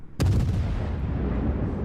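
One heavy naval gun blast from warships in World of Warships, a sharp loud crack followed by a long rumbling roll that fades slowly.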